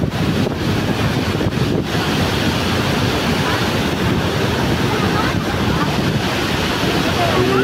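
Roaring water of Iguazu Falls in Brazil, a loud, steady broadband rush that fills the whole clip, mixed with gusts of wind buffeting the microphone and no speech.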